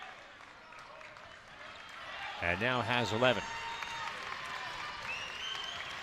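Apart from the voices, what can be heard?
basketball crowd applauding a free throw at Patrick Gym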